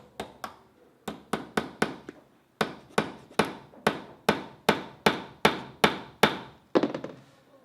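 A hammer strikes a nail over and over, about sixteen sharp knocks in a steady rhythm, paused briefly twice, close and loud.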